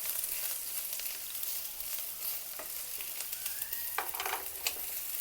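Garlic and ginger fry in a pan with a steady crackling sizzle, a few sharper pops and spatters near the end.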